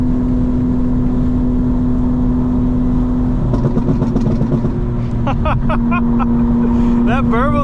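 A 900 hp tuned 2025 BMW M4 Competition idles with a steady engine drone and then crackles into bursts of exhaust burble, close and loud, while people talk over it.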